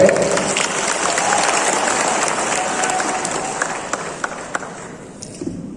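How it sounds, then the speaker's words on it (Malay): Audience applause at a Perikatan Nasional political rally in Sabah, a sustained broad wash of clapping from a crowd that thins toward the end, leaving a few scattered claps. "Beri tepukan kepada beliau"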